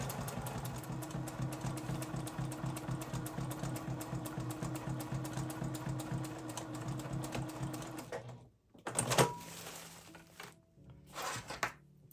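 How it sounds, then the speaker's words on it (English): A sewing machine stitching clear vinyl runs steadily for about eight seconds with a rapid, even stitching rhythm, then stops, followed by a few short handling noises. "And repeat sewing down the other side as well."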